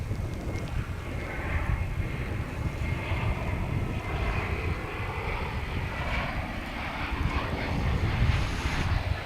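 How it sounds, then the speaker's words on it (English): American Airlines Airbus A321 jet airliner arriving from Las Vegas at Dallas Fort Worth airport, a steady broad engine rumble at moderate distance with some wind buffeting, swelling slightly toward the end. "This Airbus A321 is coming in from Las Vegas, American Flight 1584."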